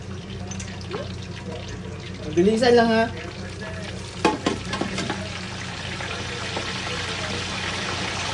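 Hot oil crackles and sizzles around frying pork for lechon kawali, and a sudden louder burst of spitting follows as water hits the pan; a voice speaks briefly over the frying.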